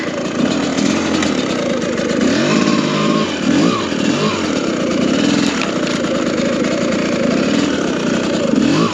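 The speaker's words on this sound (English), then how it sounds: "So I'm just lugging along third gear here." A 2022 TM EN300 FI dirt motorcycle engine lugs in third gear while riding, giving a loud, continuous, close raspy drone. Its pitch wavers and sweeps up and down with the throttle.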